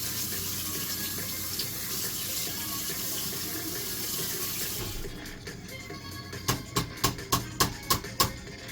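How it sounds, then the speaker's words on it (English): Water pours steadily into a sink as instant noodles are drained, then stops, followed by a rhythmic series of about seven sharp taps. "Or time to drain the noodle."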